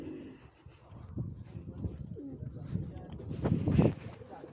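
Pigeons coo softly in a coop in Çankırı, Turkey, housing tumbler pigeons, with low repeated cooing calls close by, some rustling, and someone talking over them.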